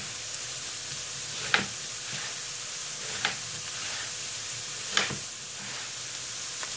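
Oil heats in a frying pan with a steady, hissing sizzle. Three soft clicks stand out over the even crackle, and there is no talking.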